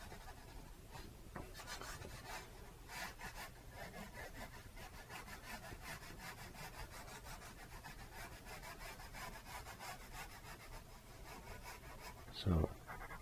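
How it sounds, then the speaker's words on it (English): A pencil sketches a bolt on paper in preparation for an acrylic painting, making soft, steady rubbing and scratching strokes in a faint, regular rhythm, with one brief louder knock near the end. "what I'm doing is just drawing a bolt at the moment"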